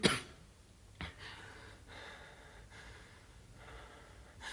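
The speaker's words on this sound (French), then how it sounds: "Monsieur le professeur, Vous toussez, vite, à boire." A professor coughs, a sharp burst at the start followed by several rougher, breathy coughs spaced about a second apart, fairly close and quiet.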